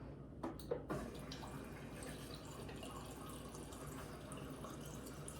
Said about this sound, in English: Now I'm going to run a second glass of water.